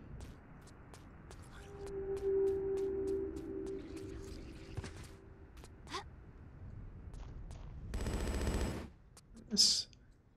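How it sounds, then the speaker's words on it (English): Machine gun fire in Tomb Raider IV: The Last Revelation on PC, a brief loud burst of rapid shots around the middle, followed by a sharp short crack, amid faint game ambience and scattered ticks. "This stupid machine gun up there is shooting me again."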